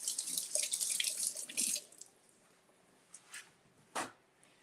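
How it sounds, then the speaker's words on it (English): Tap water gushes loudly for a couple of seconds as grape tomatoes are rinsed at a kitchen sink, then cuts off, leaving a few quieter splashes and drips. "So let's rinse off our grape tomatoes."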